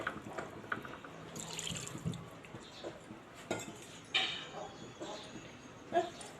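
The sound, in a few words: water being poured into a clay pot with chicken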